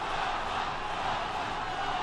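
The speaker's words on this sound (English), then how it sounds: "All of a sudden now the crowd chanting, Wama, Wama." Boxing arena crowd in a Wilfredo Vazquez Jr vs Juan Manuel López fight, with a steady, dense roar of many voices chanting and cheering throughout.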